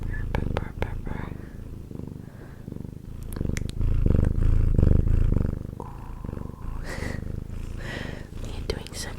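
A pet cat named Moosey purrs close to the microphone in a steady low rumble, with a woman's soft, whispery voice talking over it throughout.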